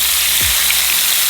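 Butter sizzling in a hot pan while rib eye fillet steak cooks with rosemary, a steady loud frying hiss heard close up with a brief low thud partway through.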